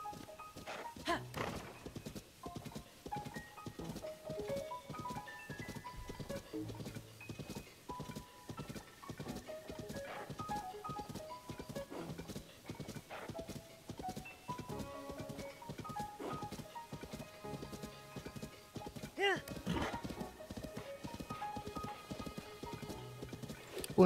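Steady clip-clop of horse hooves in the video game The Legend of Zelda: Tears of the Kingdom, rhythmic and continuous, with occasional thuds and soft background tones, fairly quiet throughout.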